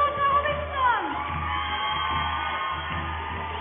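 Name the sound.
audience applauding and cheering at a show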